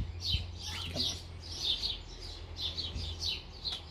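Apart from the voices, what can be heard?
cockatiel chirping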